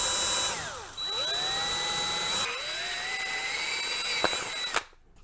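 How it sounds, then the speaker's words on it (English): A power drill with a step drill bit whines through thin plastic, its pitch sweeping down and rising again as it bites, with a steady high tone throughout before cutting off abruptly. "I have one of these step drills that's meant for like sheet metal and things like that."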